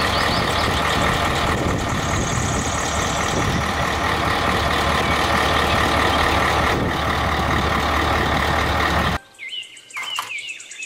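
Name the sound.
toy dump truck engine and reversing beeps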